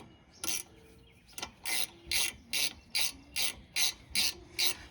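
A ratchet wrench tightens bolts during rear brake work on a 2008 Jeep Wrangler. It gives a run of evenly spaced clicking bursts, about nine close, crisp strokes with short gaps between them.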